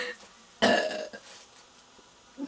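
A loud, drawn-out burp during a burping contest, followed by a few fainter throaty sounds and quiet pauses.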